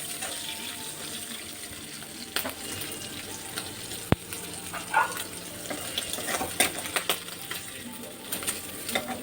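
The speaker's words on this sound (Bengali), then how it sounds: "মাছ ভাজাটা হয়ে গেছে, এখন আমি নামিয়ে নেব।" Fish sizzles in hot oil in a village kitchen, a steady crackling fry broken by a few sharp clinks and stirring sounds.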